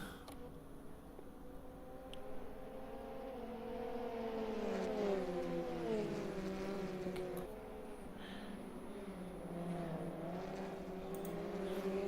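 Polo Supacup race cars roar down the Kyalami main straight, several engines droning and rising in pitch together as they accelerate, the whining tones shifting as cars close up and pass, steady and fairly distant.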